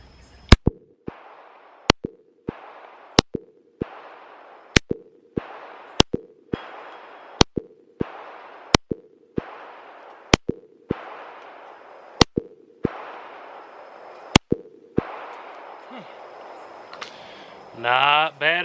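A SCCY CPX-3 .380 pistol fires about fourteen sharp, loud gunshots at a steady, unhurried pace. Each crack is followed by a short ringing tail, and a burst of noise comes at the end.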